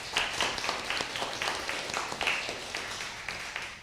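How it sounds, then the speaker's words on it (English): Audience clapping at a church debate championship, a steady patter of many hands applauding together, moderately loud and continuous, no talk. "Let's give them a round of applause"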